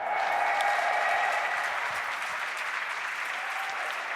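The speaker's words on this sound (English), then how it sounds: "Let's give it up again for Alliance and Loda here" A crowd applauds Alliance and Loda at an esports Major event in Frankfurt, with loud, sustained clapping and cheering that holds steady throughout and only eases slightly toward the end.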